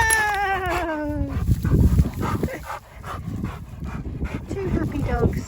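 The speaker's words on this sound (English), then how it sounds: "2 happy dogs on a hot summer's evening" Two dogs out on a walk on a hot summer evening pant close by, with a brief bark and whimpery sounds, heard under a person talking to them.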